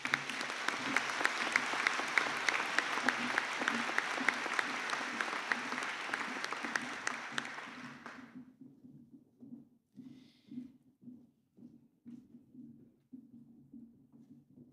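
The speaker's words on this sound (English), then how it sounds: "If we could have a round of applause." A crowd applauds at a graduation ceremony, dense clapping for about eight seconds before fading to a few scattered claps over a low steady hum.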